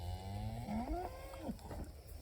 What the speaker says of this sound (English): The cows don't make me nervous, but the bull does.